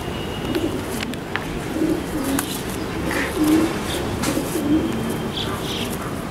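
A racing pigeon in a loft coos softly and repeatedly, with low throaty coos recurring every second or so over a steady background hum.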